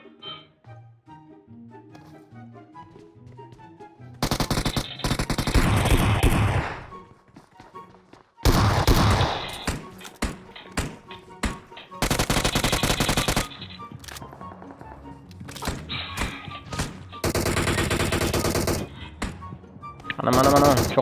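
Gunfire in a first-person shooter game, bursts of loud automatic fire with heavy thuds in several long volleys separated by quieter stretches of game music and effects.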